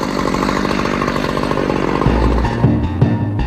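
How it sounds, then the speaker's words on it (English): A carbide-bladed chainsaw drones steadily at high speed, cutting up an aircraft in a junkyard with a harsh buzzing whine that dips and sputters near the end. "what you'll use is like a chainsaw, which has a carbide blade on it"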